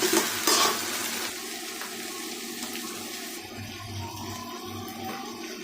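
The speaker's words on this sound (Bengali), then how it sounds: "ভালো করে একটু নাড়াচাড়া করে নিই।" Food being stirred in a frying pan, a soft scraping churn over a low steady sizzle, with a brief louder clatter at the start and no talking.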